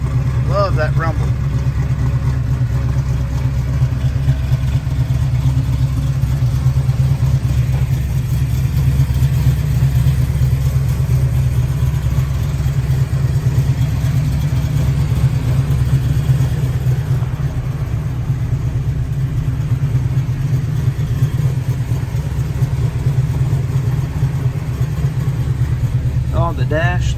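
A 1966 Chevrolet Nova SS idles nearby with a loud, steady, deep rumble that holds unchanged for the whole stretch, with no revving.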